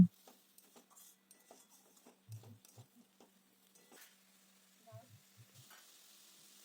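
Spice masala cooking down with a little water in a wok, heard as a quiet, sparse bubbling and spluttering with soft scrapes and a few light knocks from stirring.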